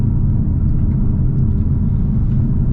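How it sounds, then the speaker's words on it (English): A 2025 Hyundai Elantra N's exhaust gives a steady, loud low rumble while driving, continuous road and engine drone with no break. "you hear the exhaust a bit more than like a normal Elantra"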